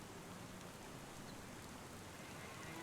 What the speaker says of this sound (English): It's raining, so that's not ideal.